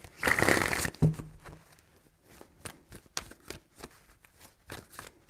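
Tarot cards are shuffled by hand, a dense riffling burst at the start followed by a series of quiet, irregular taps and flicks as the deck is handled, close and without voices.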